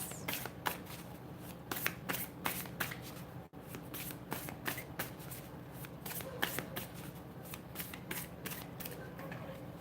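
Tarot cards being shuffled by hand during a live reading: a close, quiet run of crisp riffling flicks and slaps in irregular bursts, with a short pause partway through.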